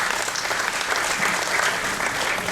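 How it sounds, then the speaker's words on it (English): A graduation ceremony audience gives a round of applause, dense even clapping from a large crowd, continuous and fairly loud for the whole stretch. "I would like you all to give each one a round of applause"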